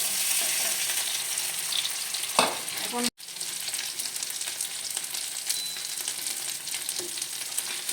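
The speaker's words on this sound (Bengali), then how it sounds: "এই চিকেনটা সাধারণত বাটার দিয়ে করে তো বাটার নেই তাই আমি ঘি দিয়ে করছি" Chicken frying in ghee, a loud, even sizzle with periodic stirring scrapes, one sharp clatter and a momentary drop in sound midway, no talking.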